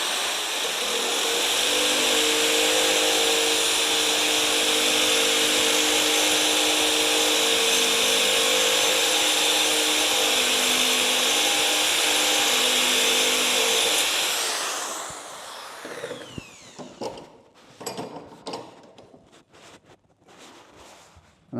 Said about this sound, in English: now we're going to sharpen the beveled edge